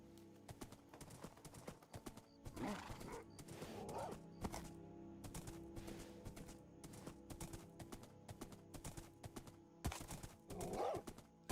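Horse hooves clip-clop at a trot in modded Minecraft, a steady rhythmic patter of game footsteps running through most of the stretch, with occasional brief bursts of other in-game sound over a low music bed.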